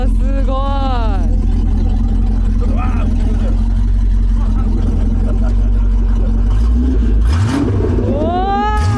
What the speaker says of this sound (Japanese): ちょっとエンジン聞きたいっすね。